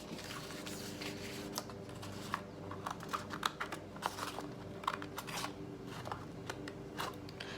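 Scissors snip folded paper cardstock for a pop-up Mother's Day card, with a string of light, crisp cuts and rustles, close and quiet, with no talk.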